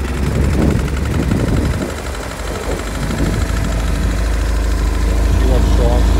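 BMW R1150GS motorcycle engine on a true cold start, idling steadily with a low, continuous throb close by, revving slightly toward the end, with brief voice-like sounds over it.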